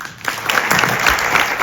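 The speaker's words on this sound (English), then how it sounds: "Please, a big round of applause for Fred Katayama" A short burst of audience clapping rises in an event hall at a film screening as a guest is welcomed, moderately loud and building after a brief quiet start.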